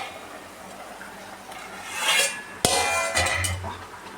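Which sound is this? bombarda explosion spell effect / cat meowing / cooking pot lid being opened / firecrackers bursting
cooking pot lid being opened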